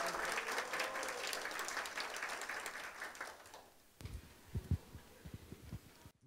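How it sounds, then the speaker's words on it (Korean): An audience at an insurance adjuster exam passers' meeting gives broad applause that gradually fades over about four seconds, followed by scattered low thumps and handling noises. "여러분 큰 박수로 모셔주시기 바라겠습니다."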